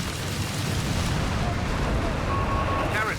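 Heavy rumbling explosions and bombardment from the World War II strategy game Company of Heroes 3, German Wehrmacht against US forces, a dense continuous roar of blasts and crackling debris, loud throughout with a faint voice beneath.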